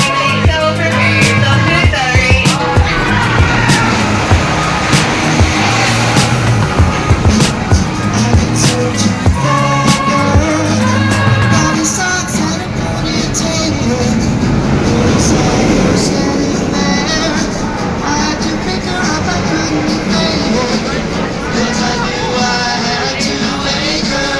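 A roaring rumble from the Accelerator launched roller coaster at Knott's Berry Farm, loud and continuous with rattling clatter and rushing wind throughout, and faint riders' shouts mixed in.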